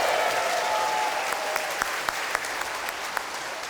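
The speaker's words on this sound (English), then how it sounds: "Let's give a round of applause for Brock." An audience at a convention opening ceremony applauds, a dense, steady wash of clapping throughout with a few sharper individual claps standing out near the end.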